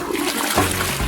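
A toilet flushes with a loud rushing gurgle of water, close by and filling the whole short moment, with no talking.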